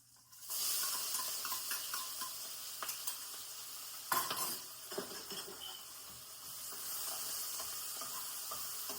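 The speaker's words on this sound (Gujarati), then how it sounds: "લસણ મરચાંને થોડી વાર સાંતળવા દઈશું આપણે" Garlic and green chili paste with a pinch of asafoetida sautéing in a pan, a steady close sizzle with occasional stirring scrapes and clinks throughout.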